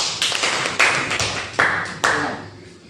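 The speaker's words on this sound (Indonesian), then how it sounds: "Tepuk tangan untuk semuanya." A class of schoolchildren clap hands together in a classroom after an Islamic prayer lesson, a short burst of several loud, sharp claps with uneven rhythm, close by.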